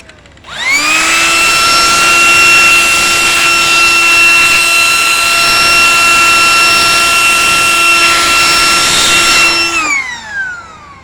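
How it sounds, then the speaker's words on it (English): A GPU cooling fan on an R7 250 graphics card spins up to a steady high whine with a strong tonal hum, holding level for about nine seconds before winding down, loud and close. "Spinning this fan without the electronics doing it for it is bad."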